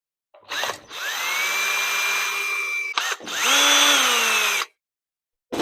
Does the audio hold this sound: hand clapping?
no